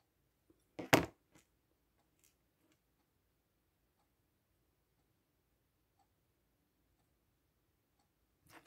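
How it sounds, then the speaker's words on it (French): A clock ticks faintly and steadily in a quiet indoor room, with a single louder clack near the start and a few soft knocks. "On entend le tic-tac de l'horloge."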